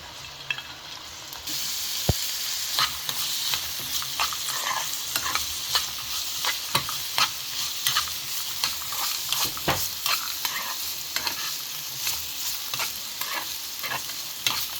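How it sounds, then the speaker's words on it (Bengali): Cashews, raisins, almonds and pistachios fry in two tablespoons of ghee in a frying pan, a steady close sizzle broken by sharp scraping stirs and spatula clinks throughout, with no talking. "আর একটা ফ্রাই প্যানের মাঝে আমি ঘি দিলাম 2 টেবিল চামচ। কাজু, কিশমিশ, আলমন্ড, পেস্তা বাদাম ওগুলো বাজি লইলাম সবটা।"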